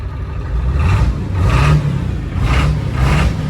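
A 7.3 Powerstroke diesel truck engine on a drag ripper tune revs up loud and close in four rhythmic surges, dropping back between each to a rumbling low idle, with no talking.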